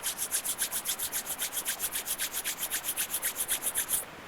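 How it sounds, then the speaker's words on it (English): Palms rubbed briskly together during a yoga routine, a quick steady back-and-forth swishing of about twenty strokes, close and alone, stopping abruptly near the end. "Rubbing the palms, generating some heat there."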